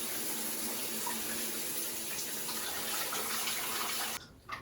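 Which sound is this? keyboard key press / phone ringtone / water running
water running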